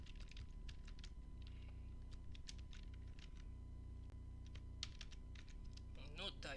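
Fingers tap out a command on a computer keyboard while setting up a web server, a quiet run of close, crisp key clicks in uneven bursts over a low steady hum, with a brief louder sound at the end.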